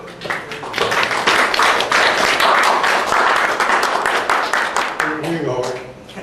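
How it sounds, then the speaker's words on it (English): Sustained applause from an amateur radio club audience at a monthly meeting, a dense wash of many hands clapping that holds steady for several seconds, then thins out near the end as a voice begins to speak. "let's give another round of applause"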